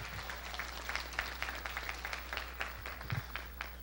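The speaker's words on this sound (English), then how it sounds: "Clap your hands for the victory." A church congregation claps along in a steady, rhythmic beat at a Sunday evening service, the applause moderately loud and slightly distant, with a low hum underneath.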